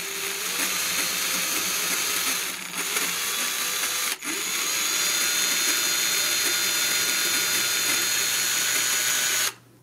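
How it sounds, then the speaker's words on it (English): An electric drill whirs steadily at high speed drilling pilot holes in a picture frame, pausing briefly twice before stopping near the end. "So now we drill our pilot holes."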